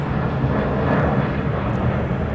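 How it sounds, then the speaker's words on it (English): Qantas Boeing Dreamliner airliner at LAX, a loud, broad engine roar that holds steady and close throughout. "There's the Qantas Dreamliner."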